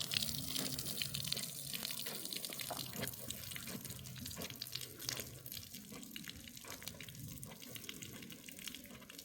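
Water-soluble 20-20-20 fertilizer solution poured over young cauliflower plants, a steady close splashing and trickling of liquid that runs the whole time with no talk.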